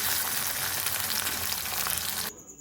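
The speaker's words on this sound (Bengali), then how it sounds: "আলু ভাজা হলেই হয়ে যাবে" Potatoes frying in a pan give a loud, dense, steady sizzle that cuts off abruptly near the end, no voices.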